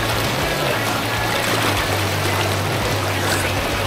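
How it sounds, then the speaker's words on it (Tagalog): Strong river current rushing at Kubli Falls in Dolores, Quezon, a loud, steady broadband wash of water with a low hum beneath, continuous and close throughout. "Ang lakas ng agos!"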